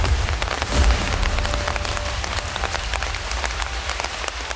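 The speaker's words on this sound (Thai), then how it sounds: "เนื่องจากฝนตกตลอด 24 ชั่วโมงนะคะ" Heavy rain pours steadily in Ratchaburi, Thailand, during a day-long downpour with flooding, a loud continuous hiss of drops hitting surfaces with no pauses.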